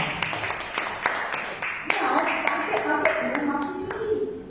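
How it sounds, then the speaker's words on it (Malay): Scattered audience clapping at a Malaysian business presentation, starting as sparse individual claps and thickening into fuller applause, with a voice speaking over it. "Beri tepukan kepada tuan-tuan."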